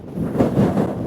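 Strong coastal wind at Whitesands Bay and St Davids Head, Pembrokeshire, Wales, buffets the microphone with a loud, low, gusty rumble that swells and dips over a brief moment.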